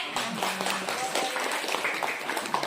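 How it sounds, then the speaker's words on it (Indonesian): A group of people clapping during a teacher training session, a moderate, uneven burst of hand claps that carries on steadily throughout, with faint voices mixed in. "Tepuk tangan dong."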